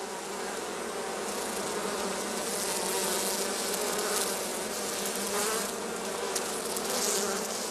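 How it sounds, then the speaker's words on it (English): A dense, continuous buzz of many honeybees around their hives close by, steady and humming without pause, no voices. "the bees are now busily collecting pollen and water to help build up the brood"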